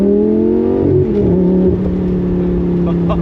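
Lamborghini Gallardo V10 Spyder with straight-pipe exhaust, driven with the roof down on a warm day, its engine droning steadily up close and rising in pitch as it accelerates, loud throughout with no talk.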